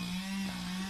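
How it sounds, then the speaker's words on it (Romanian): A chainsaw cutting wood drones with a steady, sustained buzzing hum, constant and fairly loud throughout the short stretch. "a început să taie cu drujba"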